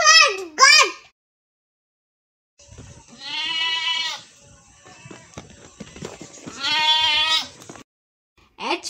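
Two drawn-out goat bleats ring out loud and near, separated by a short gap, after a brief spoken word at the start.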